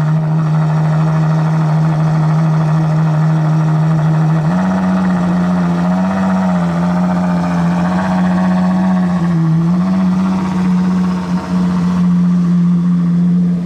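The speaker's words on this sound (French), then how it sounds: "C'est incroyable le bruit d'une SP3." A Ferrari SP3 sits idling while the engine is still cold, a loud, steady low hum close by that steps up slightly in pitch partway through and wavers gently, with no voices.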